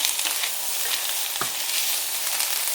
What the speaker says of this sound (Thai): ก็คือเอามาทอดแบบนี้ให้เขามีกลิ่นหอมนะคะ